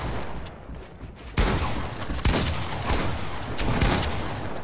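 Burst rifle fire from the video game Fortnite, loud quick clusters of shots crackling over a dense background, with several sharp bursts spread through the clip.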